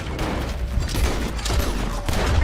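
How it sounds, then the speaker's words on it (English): Gunfire in Red Dead Redemption 2, a rapid fusillade of overlapping shots and booms over low rumble, fairly loud and continuous for a couple of seconds. "Ahora habrán disparo"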